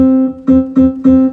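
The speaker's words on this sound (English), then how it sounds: "So I'm going to play your rhythm, Ben. It's going to sound like this" Four evenly spaced, pitched tones from a Skoog instrument with a soft electronic timbre play a short repeating rhythm in a classroom, each note swelling then fading, with no talking.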